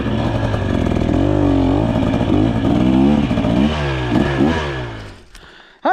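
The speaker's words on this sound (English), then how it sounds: "thanks for joining me on this initial ride of the 2023 300XC." A 2023 KTM 300XC two-stroke dirt bike rides on a dry, slick trail, its engine loud and close with rising and falling revs throughout before cutting off near the end.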